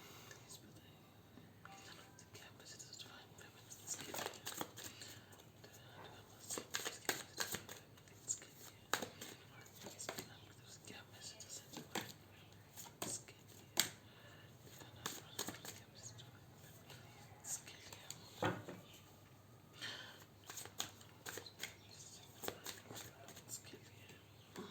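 Tarot cards are shuffled and drawn by hand, giving repeated soft riffling and flicking bursts in irregular clusters, close and quiet, with occasional hushed talk.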